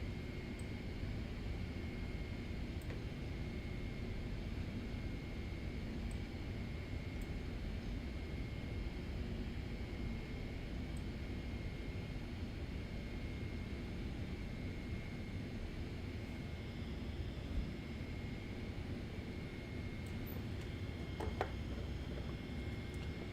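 A steady, quiet hum from a simulated Boeing 777's APU running while parked at the stand in Microsoft Flight Simulator, with a constant tone and faint occasional ticks and no talk.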